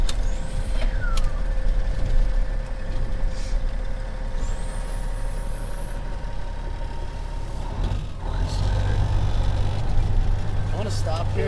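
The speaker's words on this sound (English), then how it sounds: "the turbo sounds are everything I've ever dreamed of." A 1997 Kenworth T800 semi truck with a CAT 3406E engine and 18-speed transmission, its turbo whistling and rising in pitch above a deep, steady diesel drone, with hisses and clatter from the cab around it.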